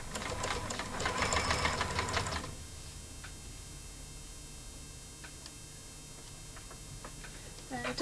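An embroidery machine stitches a zipper attachment for an in-the-hoop pouch, a rapid, close mechanical whirring chatter of needle strokes lasting a couple of seconds before stopping, followed by quiet ticks and faint handling.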